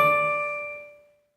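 A single bright bell-like chime rings out as a notification during a livestream. It strikes loud and clear, then rings on and fades out over about a second.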